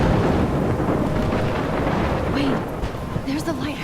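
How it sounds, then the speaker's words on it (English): A thunderstorm in the game Life Is Strange, a heavy continuous roar of wind and rumbling with a voice briefly heard over it. "I'm trapped in a storm?"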